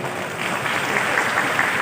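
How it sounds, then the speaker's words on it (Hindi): Steady audience applause at a musical night comedy show during the Thar Festival in Balotra, Rajasthan, a dense even wash of clapping filling the clip. "मेरे सम्मान में भी ताली बजाए"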